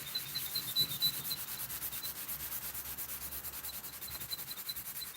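A surface is sanded with grit in steady, rhythmic back-and-forth strokes, a close, fairly quiet scratchy rasp repeating evenly throughout.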